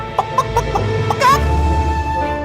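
A hen clucks noisily in a rapid burst of short, excited calls, close and fairly loud over a steady low background hum, in a children's story about a golden egg.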